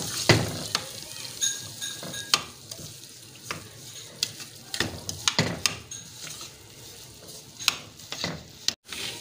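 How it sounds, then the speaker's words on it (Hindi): Semolina for halwa is roasted in a pan and stirred steadily, with a soft continuous sizzle and repeated close scrapes and clinks of the spoon against the metal. "फिर हम इसमें सूजी ऐड कर देंगे और इसको अच्छी तरह से भून लेंगे।"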